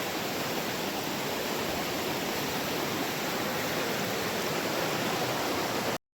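River water rushes steadily at a diverted fishing spot in Mon District, Nagaland, a dense broadband roar that is close, loud and unbroken until it cuts off abruptly near the end.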